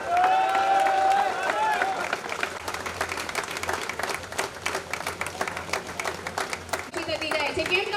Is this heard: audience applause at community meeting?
yes